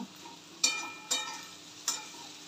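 Finely chopped okra stir-fried in a pan: a soft, quiet sizzle broken by three sharp scraping strokes of a spatula, spaced about half a second apart, with no voices.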